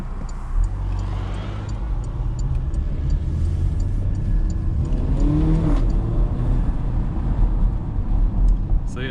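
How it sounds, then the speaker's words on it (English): A 2019 Porsche Macan with PDK gearbox accelerates under a steady engine drone, with short pops or burbles at each upshift from the exhaust, heard from inside the cabin amid road noise. "So it has these sweet upshift noises, aka DSG farts or PDK farts"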